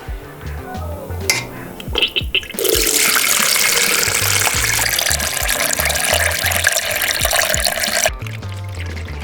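Melted candle wax at 75 degrees poured in a steady broad pour lasting several seconds, preceded by clinks and handling in a small workspace, with a low hum beneath.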